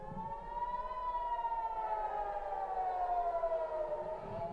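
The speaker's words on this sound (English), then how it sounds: "That's the sound of the sirens going off. That means the missiles are inbound." A wailing air raid siren warning of incoming missiles in Israel drones continuously, its pitch slowly rising and falling, loud and steady with no voices.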